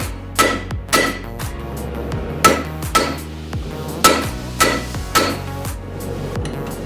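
A hammer rings repeatedly on hot steel while railroad spike tongs are forged at the anvil, sharp metallic strikes in an uneven rhythm with ringing decay between blows, fairly close and clear.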